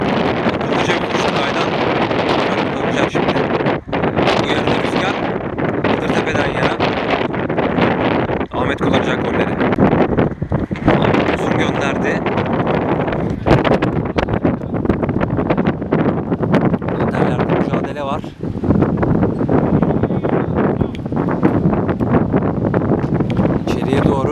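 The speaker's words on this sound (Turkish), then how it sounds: "Rüzgarın şiddeti de var orada." Strong gusts batter the microphone at an amateur football match in İzmir, a loud, continuous roaring rumble that barely lets up over about twenty-four seconds, with a commentator's voice partly buried beneath it.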